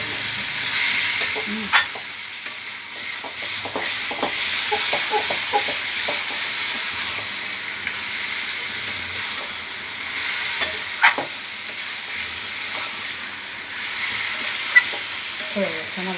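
Boal fish head and vegetable chorchori fries in a pan with a steady loud sizzle, broken by repeated scraping strokes as it is stirred.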